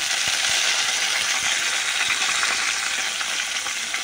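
A ghee tempering for dal sizzles and crackles steadily up close, with scattered small pops and clinks throughout and no voices.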